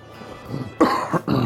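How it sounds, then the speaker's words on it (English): Two harsh coughs in quick succession, close and loud, after a moment of quiet background noise. "Sorry, fellas, I got a cough."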